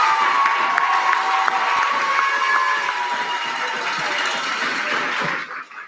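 A crowd at the Texas Ambassador Great Debate opening ceremony at St. Mary's cheers and shouts with high voices and whoops, loud and continuous, fading out at the end.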